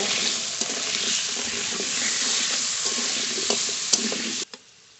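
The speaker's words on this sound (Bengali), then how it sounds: "আলু ভালো করে ভেজে নেব" Potatoes seasoned with salt and turmeric fry in oil, a steady loud sizzle with occasional stirring clinks, stopping abruptly near the end.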